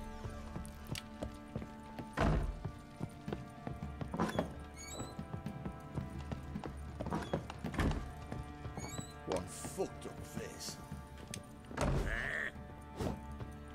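Goats in The Witcher 3: Wild Hunt bleat in short bursts at intervals among hoof clops and faint background noise, the calls moderately close.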